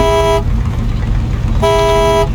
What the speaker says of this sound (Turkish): Korna aynı.